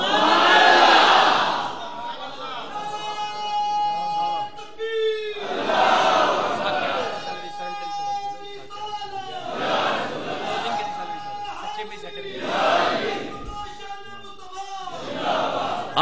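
Crowd at a religious gathering chanting the slogan "jeetay rahay" in repeated bursts, each loud swell of many voices rising and fading in a rhythmic call pattern.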